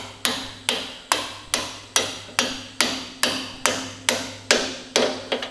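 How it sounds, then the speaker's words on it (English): A hammer drives a punch into a Ferguson TE20 tractor draft link, with ten evenly spaced metallic strikes about half a second apart, sharp and close. "get my trusty punch and try and hold every bloody thing together"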